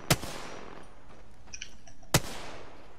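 Two sharp, isolated gunshots in the video game Apex Legends ring out about two seconds apart, each a brief loud crack followed by a short decaying tail over a quiet background.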